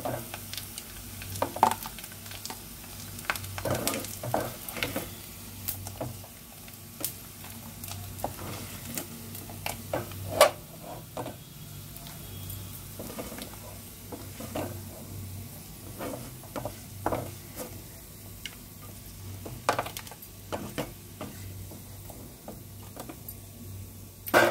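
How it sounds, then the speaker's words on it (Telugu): Dried fish pieces frying in a pan for a curry, a steady soft sizzle broken by frequent sharp clicks and scrapes of stirring. "వేగిపోయినాయండి ఇవి, ఎర్రగానే ఎండు చేప ముక్కలు తీసేసుకుందాము"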